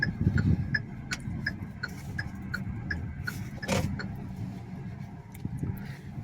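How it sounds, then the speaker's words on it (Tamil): Turn indicator of a car ticking in a steady, regular rhythm inside the cabin, faint and close over a low engine idle hum, with no talk. "நான் இண்டிகேட்டர் போட்டேன்"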